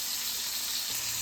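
Pork steak frying in a pan on a home stove, a steady soft hiss of sizzling fat that continues evenly throughout, with a faint low hum entering near the end.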